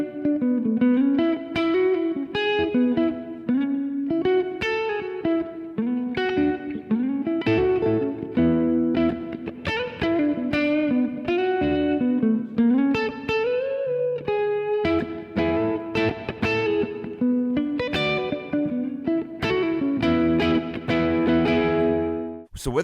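Solo electric guitar lead with effects and reverb, playing a continuous run of melodic phrases that trace the triads of changing chords, unaccompanied by any backing track, steady and moderately loud throughout.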